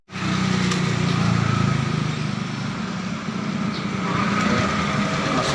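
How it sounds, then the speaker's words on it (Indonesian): A Honda Beat scooter engine idles steadily with its engine oil temperature (EOT) sensor unplugged, a continuous close, loud motor drone with no talking. "Mesin di start masih hidup."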